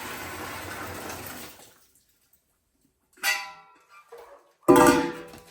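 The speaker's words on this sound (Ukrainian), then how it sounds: "І заливаємо її гарячою водою." A short burst of hissing water noise, then silence, followed by two brief splashy gushes of 70-75 °C hot water poured into a container, one quieter and one louder.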